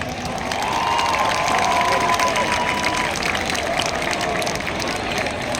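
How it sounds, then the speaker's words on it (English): A large crowd at a university sports and cultural fest roars for a guest speaker, actor Sonu Sood. Loud, sustained applause is mixed with cheering and shouting, holding steady throughout. "Can we have a huge round of applause for sir?"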